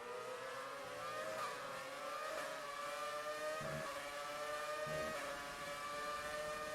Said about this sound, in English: You'll see a lot of the drivers hitting that rev limiter as the gearing's very odd at this circuit.